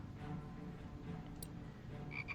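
Frogs croak in a video game, a steady low rattling croak running throughout at moderate volume, with a brief high chirp near the end.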